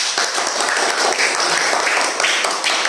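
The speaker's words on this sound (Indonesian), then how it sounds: "Tepuk tangan untuk kelompok A." A classroom group cheers and claps for a team of fourth-grade students, a dense, loud burst of applause that lasts the whole time without pause.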